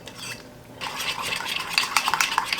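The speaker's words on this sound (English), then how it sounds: "I'm gonna add this all in this yogurt and all mixed together" A spoon stirs spices into yogurt in a bowl, starting after a short quiet moment and continuing as steady wet scraping and light clinks, close and fairly loud, with no talking.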